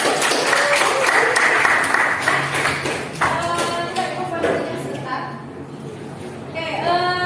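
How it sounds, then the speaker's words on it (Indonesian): Classroom applause for a student, a burst of many hands clapping, fairly close, that fades into talking voices partway through. "Tepuk tangan buat Muhammad Nova"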